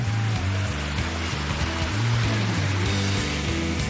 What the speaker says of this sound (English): And this is the top of Maracas Waterfall.